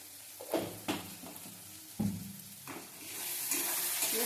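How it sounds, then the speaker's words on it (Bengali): Spice paste with turmeric and salt sizzles and is stirred in a pan for chicken kosha, with several scraping stirs followed by a rising steady sizzle. "আর লবণ দিয়ে ভালো করে মশলাটা কষিয়ে নেব।"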